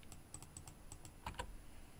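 Quick keystrokes tap on a computer keyboard, a run of about eight light, evenly spaced clicks followed by a pair of firmer presses, close by with no talking.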